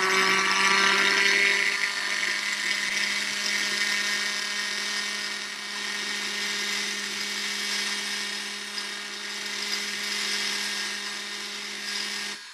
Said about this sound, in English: you're going to need to keep your burr running